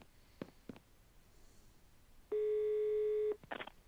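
Telephone dialing for a call in a Hercule Poirot mystery game: a few soft handset clicks, then a single steady electronic tone lasting about a second, and a final click.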